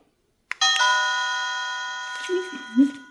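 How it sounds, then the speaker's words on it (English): Classroom doorbell ringer sounds a bright multi-tone chime that starts abruptly and rings on with a long sustained decay, clear and close, with faint talk near the end. "I put the doorbell ringer, and I had so many, and volumes are different, but let's listen to the one I chose for now."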